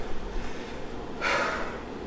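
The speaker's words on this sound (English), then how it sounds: "If you're not breathing heavy, you're missing it." Heavy, gasping breaths follow max-effort sprint intervals, a sharp huff rising partway through, close and alone without talk.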